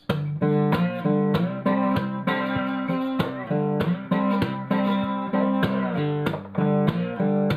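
Slide guitar chords in open G tuning are strummed in a steady, repeating rhythm, each stroke ringing bright and close with sliding pitch bends between some chords.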